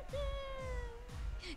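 A cat in the animated show Hazbin Hotel gives a clear, drawn-out meow followed by a short second meow, close and loud over rhythmic background music thumps.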